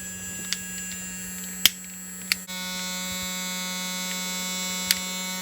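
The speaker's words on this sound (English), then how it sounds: "turn the fan on." A small fan on a cocktail smoking chamber switches on partway through and keeps running as a steady electric whir over a low hum, punctuated by a few faint clicks, with no voices.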